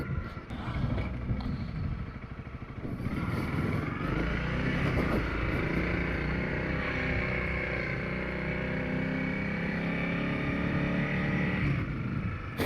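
A dirt bike runs steadily along a dirt road between Holy Jim and Maple Springs, its engine droning loud and close in a low gear for the whole stretch, with no break in the noise.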